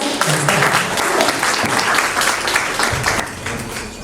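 Audience applause after the introduction of a panel on culturally specific museums, a dense, loud, steady wash of many hands clapping that fills the whole stretch and eases slightly near the end.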